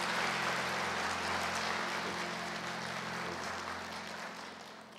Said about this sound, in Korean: 다시 한번 축복의 박수 드리겠습니다